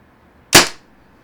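A single sharp shot from a Tippmann Cronus CO2 marker firing a 4-gram rubber ball, close and loud, with a quick burst and a short decaying tail against near silence.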